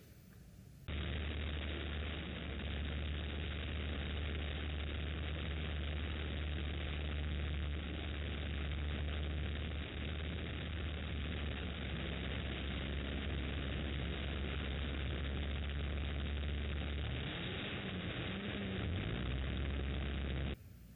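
Cars racing in a demolition derby, heard as a continuous roaring engine drone with a heavy low rumble, loud and muffled throughout, with shifting growls toward the end.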